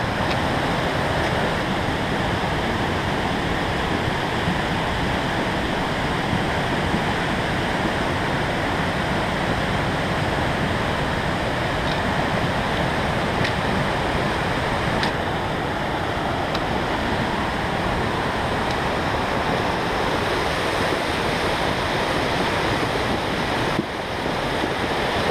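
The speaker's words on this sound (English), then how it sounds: "Glacier water." A glacier meltwater stream on Mount Rainier rushes loudly and continuously, with a dense, unbroken roar of churning water and no voices.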